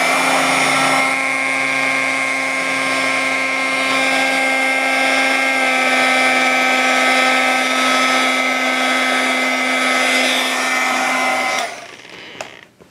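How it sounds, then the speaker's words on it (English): A small craft heat gun blowing hot air over polymer clay, giving a loud, steady motor whine and rushing air that holds level for about eleven seconds before clicking off near the end. "It's a little heat tool that I picked up at Michael's."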